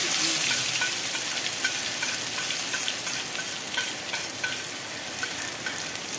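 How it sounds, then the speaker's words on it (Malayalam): Crushed shallots and chili frying with mustard seeds in a home kitchen pan, a continuous close sizzle with scraping stirring strokes throughout, no voices. "കരിയാതെ തീയൊന്ന് കുറച്ച് വെച്ചിട്ട് നമ്മൾ ഇളക്കി കൊടുക്കുക"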